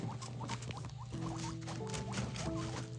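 Guinea pigs nibbling and chewing close up, rapid small crunching bites with faint squeaky chirps mixed in, steady and nearby with no talking.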